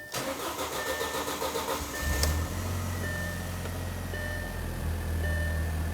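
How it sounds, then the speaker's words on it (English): A 2004-2009 Audi A4 Quattro engine cranks briefly over a steady hum, then catches and settles into a loud, even idle that continues without any talk. "And then we'll start the vehicle."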